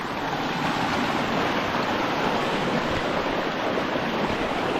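Rushing river water heard while wading across a river on a rural route, a steady, loud broadband roar of flowing water and splashing with wind buffeting the microphone throughout.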